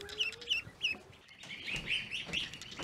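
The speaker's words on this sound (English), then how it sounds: "Baby duck. He's so cute." Baby ducklings on a homestead porch give repeated high, thin peeping chirps in short bursts, close and moderately loud, with a faint low tone and soft background noise.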